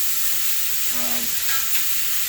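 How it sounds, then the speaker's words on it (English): Steady hiss of food frying in a hot pan, with a brief scraping stir partway through; no voices. "You want to hear that sizzle?"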